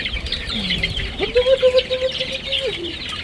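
Chicken clucking close by: a short low murmur rises into a drawn-out, sustained call, followed by quieter clucks, heard alone over faint background noise.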